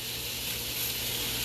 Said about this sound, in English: right in that skillet, lay them down just like that right there, and let your bones stick up. And it's gonna get a nice sear and a nice crust on it.